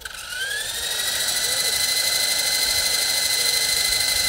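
Nincoair AluTwin G 340 RC helicopter's tail rotor spinning up with a rising whine that settles into a steady, loud, close electric buzz.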